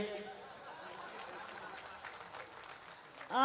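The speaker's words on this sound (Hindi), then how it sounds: "ताली बजाइए" Applause from a mushaira audience in Motihari after a ghazal ends, a broad wash of clapping and crowd murmur with some chatter and chuckling, rising louder at the very end.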